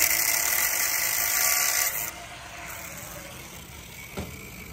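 A threaded bolt with a nut threaded on is cut through, producing a loud, harsh high-pitched grinding hiss for about two seconds that stops abruptly, followed by quieter background noise and a brief knock.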